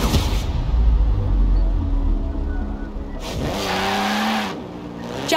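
A car driven in the racing game Forza Horizon 4 hums along steadily with engine and road noise, then surges louder as it accelerates in the middle, dropping back near the end.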